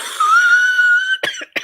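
A woman with asthma coughs a few times in quick, harsh bursts near the microphone, following a sustained high whistling tone that rings steadily beforehand.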